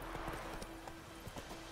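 Horse hooves clip-clopping in a steady riding rhythm while riding through The Witcher 3 game world, fairly quiet and continuous over ambient game sound, with a faint whinny possible.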